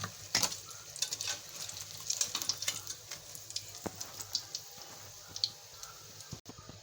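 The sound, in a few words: chicken vegetable spring rolls frying in hot ghee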